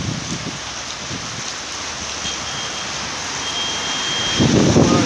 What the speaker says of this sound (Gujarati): જુનાગઢ જિલ્લાના જે વડાલની અંદર જે વરસાદ જે વરસી રહ્યો છે